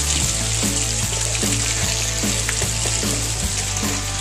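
Sinula fish frying in a pan after a night dive catch, a loud steady sizzle filling the whole clip with faint periodic stirring knocks and no talking.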